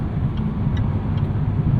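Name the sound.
2023 Jaguar F-Type R V8 engine accelerating on ramp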